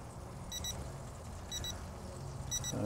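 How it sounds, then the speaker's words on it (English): Three short bursts of high electronic beeps from a barbecue smoker's low-temperature alarm repeat about once a second, sounding over a steady low rumble of background noise. "That's my alarm telling me that we are under temperature now."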